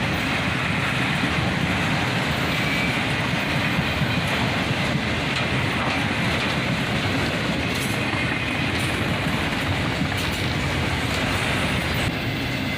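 Loaded autorack cars of a long CSX freight train pass close by with a heavy, constant rolling roar, repeated wheel clacks over the rail joints, and brief metallic squeals rising now and then.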